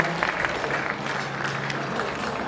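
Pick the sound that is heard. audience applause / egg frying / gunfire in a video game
audience applause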